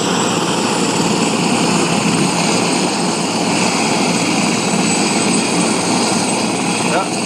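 A helicopter engine roars loudly and steadily nearby before takeoff at Hilo Airport, a constant whining drone with a throbbing rotor hum.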